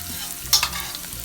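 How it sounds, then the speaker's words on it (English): Garlic sautéing in avocado oil heated over medium-high heat, a brief close sizzle with a quick scrape or stir in the middle, no talking. "we're going to saute our garlic"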